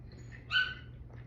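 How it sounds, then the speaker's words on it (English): A single dog bark or yip, short and faint, sounding from a distance over a low steady indoor hum, with no other sounds nearby. "My dog is barking because they smell the pizza."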